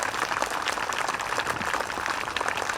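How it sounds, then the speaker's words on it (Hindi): An audience at a school sports and cultural program claps to welcome a guest, a dense, steady patter of many hands heard close and fairly loud with no pauses. "एक बार जो ताली बजाकर स्वागत करेंगे।"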